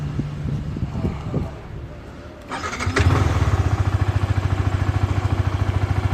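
A Yamaha R15 V3.0 motorcycle engine cranks and catches, then settles into a steady, rhythmic idle, close and fairly loud.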